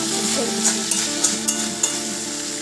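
Potatoes sauté in fish curry in a pan with a steady close sizzle, broken by a few sharp clinks of a utensil against the pan.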